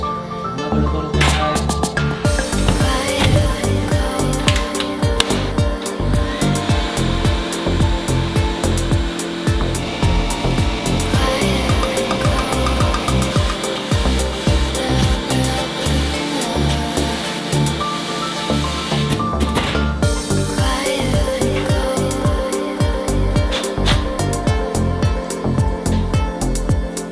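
Continuous loud hissing roar of sandblasting intake manifold and throttle body parts from a Subaru STI, a dense spray sound with choppy pulses as the blast cuts in and out, close and unbroken for the whole stretch.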